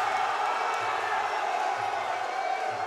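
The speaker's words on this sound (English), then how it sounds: "Crowd going crazy here." A fight crowd cheers and roars as a steady wash of noise, with faint thuds and a commentator's voice running over it.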